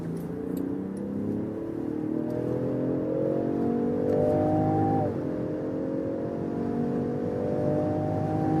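A Range Rover Sport hybrid running in petrol mode accelerates hard from 50 km/h, its engine note climbing steadily in pitch with a brief dip at a gear change before rising again, loud and continuous throughout.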